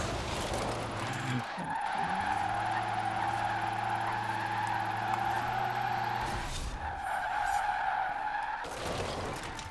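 A Rimac C Two electric hypercar drifting in Forza Horizon 4, its tires squealing in a long sustained skid over a steady high-pitched motor whine, loud and close, with a brief pause before the squeal resumes.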